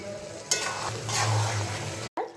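Boiled chana dal and potatoes stirred into frying spices in a pan, a steady close sizzle with a clatter of the spoon as it goes in, and a brief break near the end.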